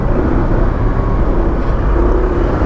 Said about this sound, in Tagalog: Ba't puro truck tayo ngayon?